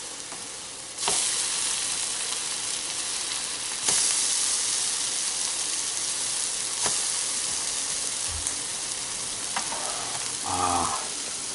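Orange French toast frying in a pan, a steady loud sizzle with crackling spits and occasional louder surges as pieces are flipped, close and continuous without talking.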